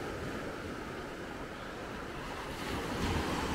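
Low, gentle surf rolls onto the beach at Maspalomas, Gran Canaria, as a continuous close wash of water with wind buffeting the microphone and swelling slightly toward the end.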